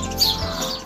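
A single short chirp from house sparrows kept inside a family home, bright and close but over almost at once.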